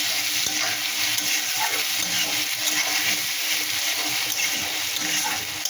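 Onions frying in a pan alongside potatoes and whole cumin make a dense, steady sizzle with constant stirring scrapes and spluttering close by.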